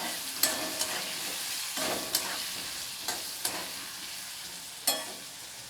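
Potatoes with turmeric frying lightly in a pan, a soft continuous sizzle broken by several distinct scraping stirs of a spatula.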